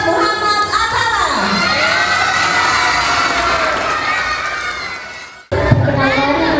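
Children at a school proclamation-reading contest for Indonesian Independence Day clap and cheer loudly for a young contestant, a dense continuous roar of shouting kids that cuts off abruptly near the end before resuming briefly.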